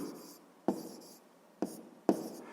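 A pen scratches quietly across paper while fractions are worked out for a sixth-grade math exercise, with soft continuous scribbling broken by three sharper taps or strokes, close and alone.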